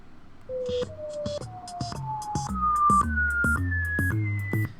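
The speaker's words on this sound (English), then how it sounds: "taken this clip again of the whistle, and I've then pitch shifted it here as well." A whistled note repeats in short phrases, stepping higher in pitch each time over a rising bass line, with a synthetic, pitch-shifted sheen.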